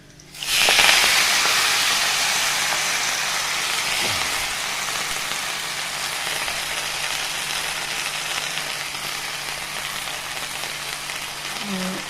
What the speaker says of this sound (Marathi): आता मेथीची भाजी त्यात धुवून टाकू आपण.